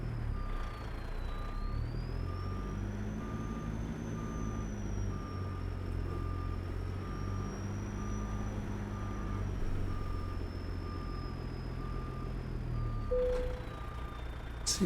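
A truck in American Truck Simulator backs a 53-foot reefer trailer toward a loading dock behind an SCS W900. A steady reversing beep repeats evenly over a low engine rumble, with a brief air-brake hiss near the end.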